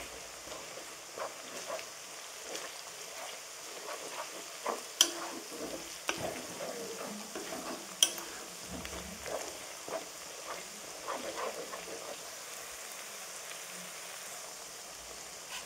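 Garlic paste sizzles in a pan with lightly fried onions, giving a soft, close, steady crackle broken by occasional scrapes and clicks of stirring, with no talking.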